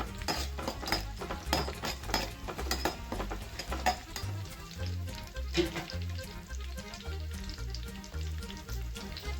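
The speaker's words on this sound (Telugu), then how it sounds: "ఇప్పుడు ఇది కొంచెం ఫ్రై కావాలి" Onion pieces for hotel-style peanut chutney fry in a pan with a steady sizzle, occasional utensil clinks and stirring scrapes sounding close at low volume, no voices.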